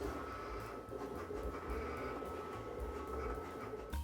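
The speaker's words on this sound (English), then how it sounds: "We're gonna use the Graphtec CE 6060, a 24-inch vinyl cutter, and the vinyl we'll be using is the Oracle 651" A Graphtec CE 6060 24-inch vinyl cutter cutting Oracle 651 vinyl, a faint steady mechanical whir and hum with small stepping motor ticks throughout, no talk.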